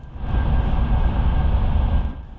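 A high-speed train runs at 300 km/h on the Roma-Napoli line, a loud, steady low rumble and rushing roar that swells in and holds for a couple of seconds.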